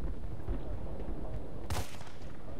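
Gunfire in Battlefield: Bad Company 2, hardcore mode: a single sharp, loud shot bursts out near the end over a constant low rumble of game ambience, with no talk over it.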